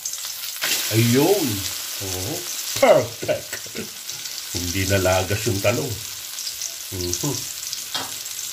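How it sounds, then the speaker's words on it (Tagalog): Eggplant torta with ground pork frying in a little oil in a pan, a soft continuous sizzle running beneath close conversation in which two people speak over it. "pag nagprito kayo ng ganitong itotorta nyo yung talong, konti mantika lang"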